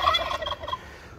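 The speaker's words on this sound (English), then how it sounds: "These two loudmouths, these are my toms." Tom turkeys gobbling in a backyard flock kept with chickens, one loud close burst of rapid warbling gobbles that fades quickly, with no talk.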